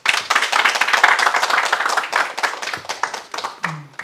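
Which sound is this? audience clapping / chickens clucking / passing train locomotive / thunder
audience clapping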